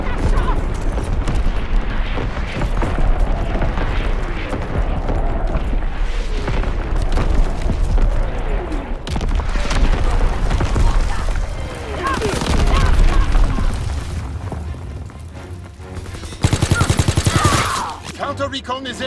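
Sustained World War II artillery barrage with booming shell explosions and bursts of rifle and machine-gun fire in a video game battle, dense and loud throughout, with radio-style voice callouts mixed in and a sharp louder burst near the end.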